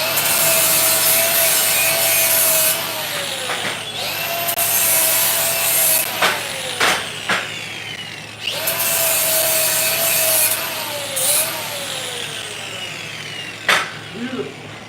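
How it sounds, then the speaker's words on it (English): A machined metal spacer being deburred at a Bridgeport J-head milling machine: a steady close rasping scrape runs through most of the clip, with a falling mechanical whine, broken by a few sharp clicks and knocks. "That's why you gotta deburr it right there."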